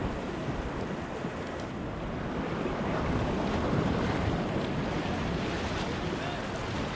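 Rushing whitewater at the U.S. National Whitewater Center, heard from a kayak near an eddy: a dense, steady roar of churning water with wind buffeting the microphone, loud and continuous throughout.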